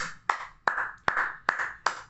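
A man claps his hands for Azhar Ali, five sharp, evenly spaced claps about every 0.4 seconds, close and distinct with brief ringing tails.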